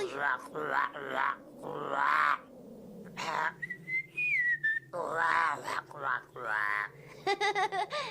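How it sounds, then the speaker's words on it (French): A long rising then wavering whistle in a French-dubbed Dragon Ball Z anime episode, sustained for over a second between stretches of dialogue in the scene. "Il est long le sifflement là, hein."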